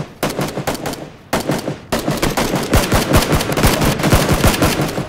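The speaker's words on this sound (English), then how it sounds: "Gunshots. That's on the hill." Loud bursts of rapid gunfire in PlayerUnknown's Battlegrounds, mostly automatic volleys with short gaps, sharp and close, continuing almost without pause.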